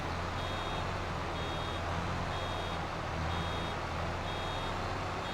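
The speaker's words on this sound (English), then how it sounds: "Don't you just enjoy the beeping so much?" Reversing beeps from a farm vehicle in Farming Simulator 22 sound as a steady, regular series of faint high tones over a constant low engine rumble throughout.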